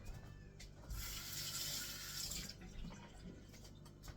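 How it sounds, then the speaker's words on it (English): Kitchen tap water runs into a sink as juice is rinsed out, a close hissing splash that swells for a couple of seconds before easing into trickles and small drips. "I'll just rinse it out in the sink"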